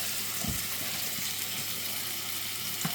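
Soy sauce hitting a pan of mushroom sauce made with cinnamon, a dense continuous sizzle with a couple of short stirring knocks, close and fairly loud, with nobody speaking.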